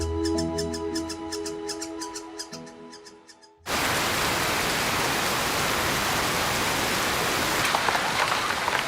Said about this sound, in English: Okinawa's rainy season continues and causes the river to rise dramatically.